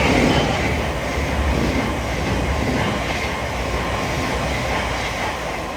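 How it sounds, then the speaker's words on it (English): A Class 700 electric train runs through Alexandra Palace on the East Coast Main Line, giving a loud, continuous rumble and wheel roar close by with a rhythmic clatter of the rails. "passing through now is a Class 700 en route from Horsham to Peterborough"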